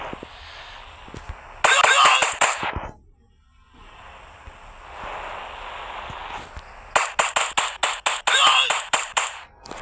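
Gunfire in the mobile game Indian Bike Driving 3D: loud, sharp synthetic shots come in quick bursts, a short cluster early on and a longer rapid volley near the end, with quieter game ambience between.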